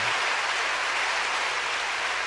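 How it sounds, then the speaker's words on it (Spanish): An audience at a religious conference applauds for the Virgin Mary, a broad, even wash of clapping that holds steady and loud throughout without speech. "Un aplauso a la Virgen María, la que aplasta la cabeza al dragón"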